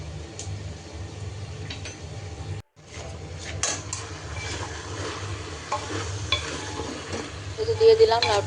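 Bottle gourd and snakehead fish head being stirred in frying masala, a steady sizzle with a spoon scraping and clinking against the pot, broken by a brief pause and growing busier toward the end.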